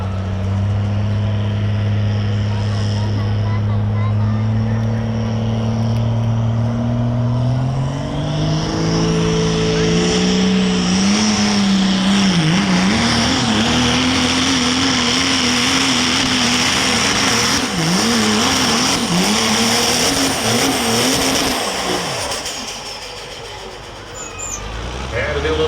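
A pickup truck engine at an Ultimate Callout Challenge sled pull, holding a loud, steady roar before revving and wavering in pitch as the driver works the pedal, with an announcer talking over it.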